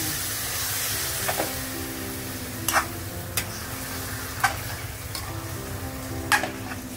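Marinated chicken sizzles in a hot kadai, a soft steady frying hiss with occasional scrapes and clinks as it is stirred, fairly quiet and without talk.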